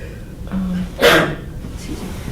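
A single sharp sneeze bursts out about a second in, brief and fairly close, with quiet room noise and faint breathing around it.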